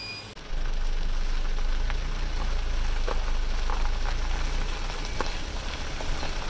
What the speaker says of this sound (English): Beautiful spring rain.